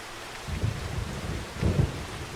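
Steady rain on a winter farm in Farming Simulator 25 fills the scene, with two low rolls of thunder rumbling through at a moderate distance.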